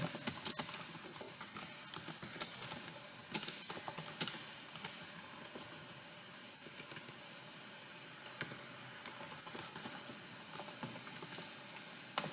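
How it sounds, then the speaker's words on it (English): Fast, light clatter of a computer keyboard being typed on at close range, steady bursts of keystrokes with brief pauses, fairly quiet and with no voices. "I'm just going to type it out real quickly"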